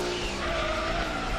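A voice imitates screeching tires, a sustained strained squeal that holds steady for over a second, loud and close.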